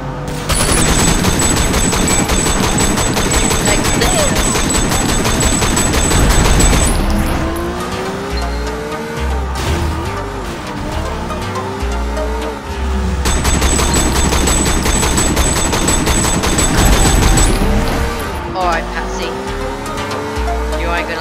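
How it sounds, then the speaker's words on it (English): Rapid automatic gunfire rattles during a car chase in the video game Sleeping Dogs, dense bursts layered over engine roar, squealing tires and music, with a player talking throughout. "Gunfire noise, oh, I have unlimited supply."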